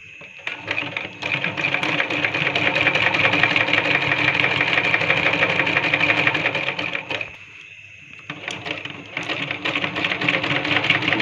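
A sewing machine runs a lungi's middle seam: a steady, rapid mechanical whirr of stitching that stops for about a second, then starts again close by.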